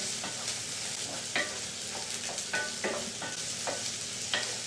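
Courgette and mushroom with garlic frying in a pan, a gentle sizzle under repeated crisp clicks and scrapes as the pieces are tossed and stirred.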